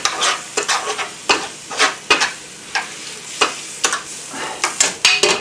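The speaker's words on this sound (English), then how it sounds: "Stir it all together." A spoon stirs yogurt, giving a close run of quick, irregular scraping and clinking strokes with short pauses between them, and no voices.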